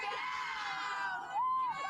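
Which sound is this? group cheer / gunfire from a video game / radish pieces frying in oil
group cheer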